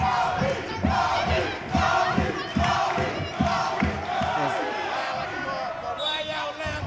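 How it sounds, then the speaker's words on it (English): A crowd at a school basketball game between Collins and Perspective cheers and chants loudly and continuously, with ball bounces, sneaker squeaks and a commentator's voice mixed into the dense roar. "Cordell Henry really woke up the crowd"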